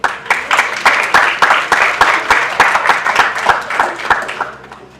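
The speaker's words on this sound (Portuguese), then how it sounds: "Uma salva de palmas." Audience applauding an honoree called to the stage at a health conference, loud, close, rhythmic clapping that carries steadily throughout and tapers slightly at the end.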